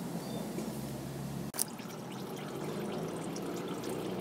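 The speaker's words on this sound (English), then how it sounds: "I'm tilting it, so let's drain all the oil." Transmission oil pouring out of a tilted Dodge Ram transmission pan, a steady liquid splash and trickle with a brief clunk partway through, then continued pouring, close and fairly quiet.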